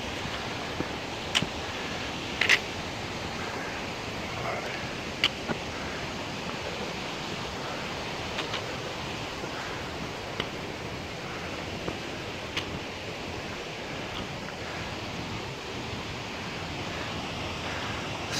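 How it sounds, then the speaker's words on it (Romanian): Noisy Sâmbăta mountain river in the Făgăraș Mountains rushing steadily, a broad continuous hiss of flowing water close by with a few faint clicks, no talking. "Un râu destul de gălăgios, râul ăsta Sâmbăta."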